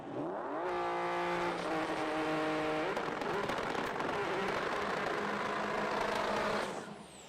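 Lamborghini and Nissan GTR drag cars at World Cup Finals qualifying, engines loud and sustained with rising harmonic revs, one car's tone sweeping as they pass, over a crowd-filled, crackling roar that fades near the end.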